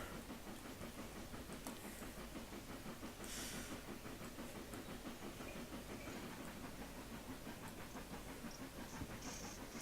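A locomotive running in a train simulator game, a constant rumbling rattle with rhythmic wheel clatter and hiss, fairly faint and steady throughout.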